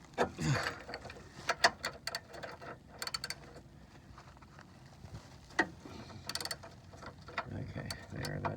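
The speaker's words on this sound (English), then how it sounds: "that turned the ratchet in the back" Ratchet clicks and metallic mechanical clatter while working on a suspension bolt of a 2011 Ford Focus with a breaker bar, irregular bursts of clicking close by, with scattered faint handling noise.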